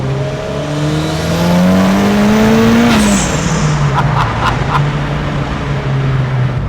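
A Ford Sierra Cosworth fitted with a touring-car-spec engine of about 520 horsepower revs and accelerates past, loud and close, its engine note climbing then dropping with sharp pops and crackles as it pulls away.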